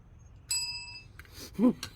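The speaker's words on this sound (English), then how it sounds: "Sorry, that's my bell for this first initial episode." A single bright bell ding rings out sharply and fades over about half a second, followed by brief bits of a voice.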